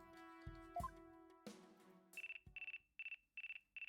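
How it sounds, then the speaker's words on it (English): A phone ringtone in Phoenix Wright: Ace Attorney - Dual Destinies, opening with a few game tones before a bright electronic trill rings in rapid bursts, repeating five times with short gaps, clear and alone. "Looks like I have a phone call."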